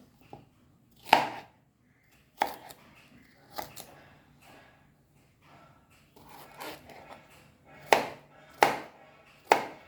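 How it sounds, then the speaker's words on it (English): A knife slices through tomatoes on a board while a Greek salad is prepared, making sharp, separate cutting taps at an uneven pace against quiet kitchen background. "So tomatoes has to be sliced this way."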